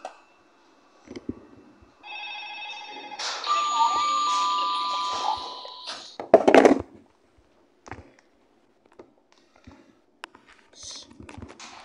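A phone's electronic ring tone sounds for a few seconds among soft clicks and tapping, followed by a brief loud clatter and quiet handling noises.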